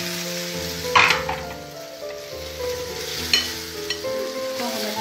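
Green masala and tomatoes stirred in a sizzling pan for a sponge omelette, with a loud continuous hiss and a low hum beneath, broken by a couple of sharp scraping strokes of a spoon.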